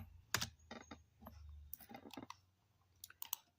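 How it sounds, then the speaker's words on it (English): Computer keyboard typing during a live coding session, irregular bursts of sharp clicking keystrokes with short pauses between clusters, close to the microphone and fairly quiet, no talking. "Is the keyboard noise annoying"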